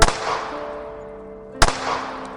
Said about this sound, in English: there were gunshots